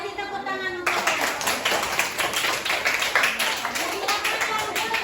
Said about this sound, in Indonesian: Kita kasih tepuk tangan untuk mereka.